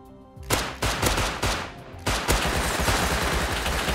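Rapid, loud gunfire in Rust, beginning with separate heavy shots in quick succession and then breaking into a dense, continuous automatic barrage close by.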